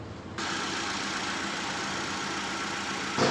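A Hyundai i10 Magna petrol car engine idles with a steady, even low hum close to the listener, without any speech and with a slight rise in noise at the very end.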